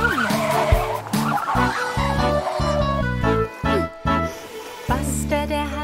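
Cartoon car brakes squeal and skid in a German children's cartoon song, with short sliding squeals over a bright, bouncy music track.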